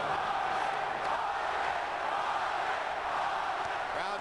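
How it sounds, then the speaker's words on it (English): A boxing arena crowd at a De La Hoya vs Vargas fight, a dense, steady roar of chanting voices filling the space, loud and continuous without a break. "Crowd chanting for Vargas"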